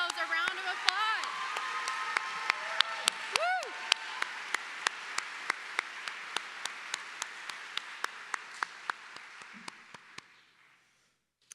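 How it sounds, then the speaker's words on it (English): Graduating class audience applauding at a ceremony, a broad wash of clapping with cheering voices and a whoop early on, gradually fading out over about ten seconds. "Please give yourselves a round of applause."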